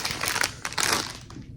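Foil packaging around a small collectible figure crinkles and crunches as it is pulled open, in a few quick close bursts.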